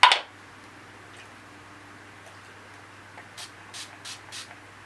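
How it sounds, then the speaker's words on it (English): Urban Decay All Nighter setting spray misted onto the tip of a Beauty Blender sponge: one short, close, sharp hiss at the start, then near silence with faint light ticks and rustles. "I'm going to take my my Urban Decay All Nighter Makeup Setting Spray. And I'm just going to spray the tip of my Beauty Blender."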